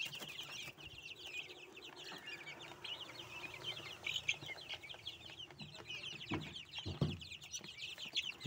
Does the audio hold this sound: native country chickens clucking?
yes